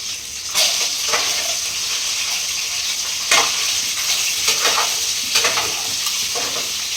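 Egg fry seasoned with red chilli powder sizzles loudly in a pan, a dense steady hiss broken by sharp crackling bursts and stirring scrapes at irregular intervals.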